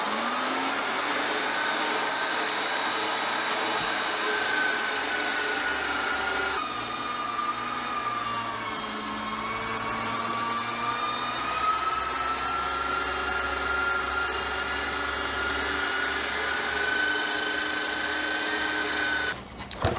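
A meat grinder running continuously while grinding meat for homemade bratwurst, a loud, close motor whine that shifts pitch under changing load over about twenty seconds.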